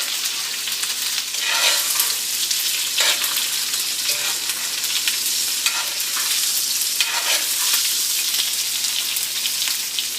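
A rib eye steak sizzles and spits steadily in a hot pan while being basted with butter, oil and garlic, with repeated brief scraping and spooning noises rising over the constant close frying hiss.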